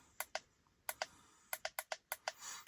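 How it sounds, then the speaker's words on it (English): Button clicks on a budget air ride device cycling through its modes, roughly nine sharp, close taps in irregular pairs and bursts, with no talking. "You can click through the modes."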